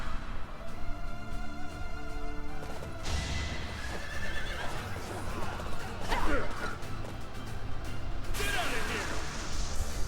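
Horse whinnying and hooves clip-clopping in the video game Fire Emblem: Three Houses, amid a busy, noisy soundscape with crashes and scattered voices, steady and loud throughout.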